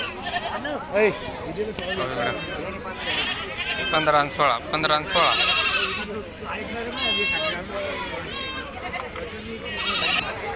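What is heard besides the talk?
native Gavrani goats bleating at a goat market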